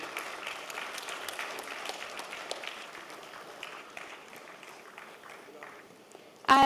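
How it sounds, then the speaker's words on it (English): Applause at a design conclave fills a large hall as chapter representatives are named, a dense, steady clapping from a big crowd that gradually thins and fades, then is cut off by a brief louder sound at the end. "Can we keep the applause going?"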